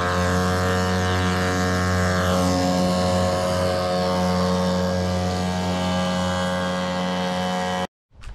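Twin electric motors drive a homemade 3D printed jet unit with its nozzle removed, giving a loud, steady whine with strong harmonic tones that hold nearly constant for about eight seconds and then cut off abruptly.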